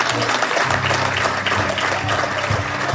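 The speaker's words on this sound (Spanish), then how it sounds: "Denle un fuerte aplauso al Señor." A church congregation applauding during a Spanish-language service, loud sustained clapping with a low musical hum or organ tone underneath.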